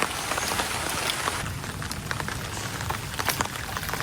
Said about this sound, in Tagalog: Maulan po ngayon.